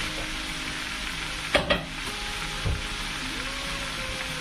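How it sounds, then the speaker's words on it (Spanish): Meatballs frying in oil in a small pot give a steady soft sizzle, broken by a couple of brief clinks or stirring knocks, with no voices. "Aquí pusimos a freír las albóndigas."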